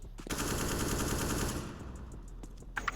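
Rapid automatic gunfire rattles loudly in a bomb-planting shooter video game, a dense sustained burst that thins out toward the end before a few sharper shots.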